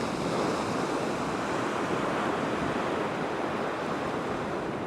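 Waves at the town seafront beach in Porthcawl, South Wales, give a steady, dense wash of surf noise, continuous and fairly loud with some wind mixed in and no voices.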